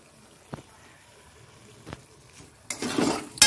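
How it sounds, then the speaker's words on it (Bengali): Mutton and tomato being sautéed in a pan, a few soft scraping stirs followed by a sudden loud burst of sizzling near the end. "দেখো কষছে এখনো"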